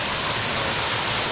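Secret waterfall reached on a hiking excursion: a loud, close, unbroken roar of falling water that fills the whole clip.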